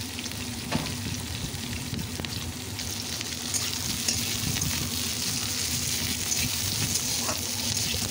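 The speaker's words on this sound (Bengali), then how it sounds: "এই উপকরণটা এখন একটু নাড়াচাড়া করে ভেজে নিচ্ছি।" Chopped garlic, half an inch of ginger, four green chillies and two onions frying in a pan while being stirred: a loud, continuous close sizzle with soft scraping from the stirring.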